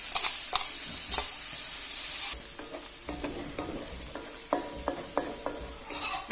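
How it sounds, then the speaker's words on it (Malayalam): A ground paste of green chilli, garlic, ginger, black pepper and fennel sizzles loudly in a pan for vegetable biryani, then settles into quieter frying with sharp, irregular spoon scrapes and clicks as it is stirred, with no talking. "ഇതെല്ലാം ചേർത്ത് അരച്ച അരപ്പ് അതിലോട്ട് മിക്സ് ചെയ്യാം"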